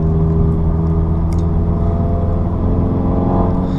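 Steady, loud engine and exhaust drone from an APR Stage 2 tuned VW Mk7 GTI pulling in fifth gear on a mountain drive, with a constant low rumble and no talk.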